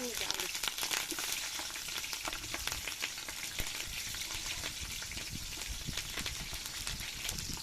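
Halved green chillies sizzle steadily in hot oil in a pan while being sautéed for village-style chicken biryani, a dense continuous crackle with occasional stirring scrapes, close and fairly loud, no talking.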